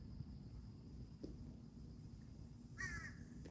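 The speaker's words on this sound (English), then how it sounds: "Crow came right on time." A crow caws outdoors, a short harmonic call near the end, fairly clear over a steady low background rumble, with a faint earlier blip.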